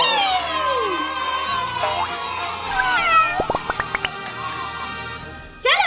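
A pet cat meows in several drawn-out, rising and falling calls, close and clear, followed by a quick series of sharp taps and a short scrape near the end.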